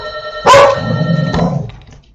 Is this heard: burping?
no